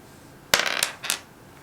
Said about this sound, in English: if you have one dice, you can roll it